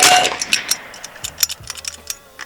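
Rapid semi-auto shots from a Bin Tac S45 .357 (9mm) airgun, a string of sharp, close cracks with metallic clangs and ticks, loud at first then trailing into a lighter irregular run of reports.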